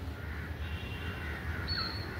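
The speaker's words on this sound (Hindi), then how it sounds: "ये देखो चिड़िया जा रही हैं, सारी चिड़िया जा रही हैं" A flock of crows passing overhead, with a couple of faint caws that carry over steady outdoor background noise on an overcast day.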